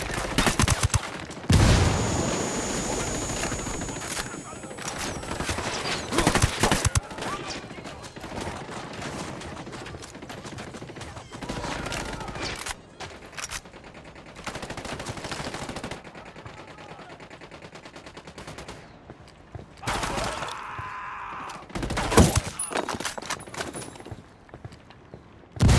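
Bursts of rapid gunfire and single shots from Ghost Recon Wildlands crack through a long stretch of combat, some close and loud, some more distant, with occasional radio-style voices between volleys.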